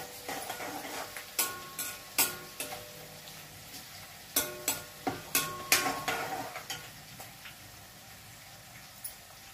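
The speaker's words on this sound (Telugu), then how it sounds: "పచ్చిమిర్చి కొంచెం వేగినాక సన్నగా తరిగిన అల్లము, అల్లాన్ని బాగా వేగనివ్వండి." Green chillies and ginger fry in hot oil in a pan with a faint, quiet sizzle, broken by a series of sharp clicking taps and scrapes as a spoon stirs and knocks against the vessel.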